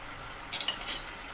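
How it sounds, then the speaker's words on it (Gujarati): Peanuts tipped into a pan of potato curry, a short burst of rattling clatter followed by a smaller scrape, alone against a quiet background. "હવે હું આમાં શિંગદાણા નાખી દઉં છું"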